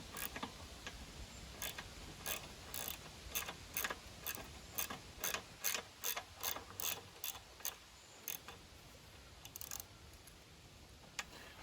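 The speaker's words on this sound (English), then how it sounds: "we'll take socket wrench and we'll go ahead and disconnect the actual carburetor now" A socket wrench ratchets on the carburetor bolts of a dirty small engine, a close, crisp series of rapid clicking strokes in repeated bursts with brief pauses between, no voices over it.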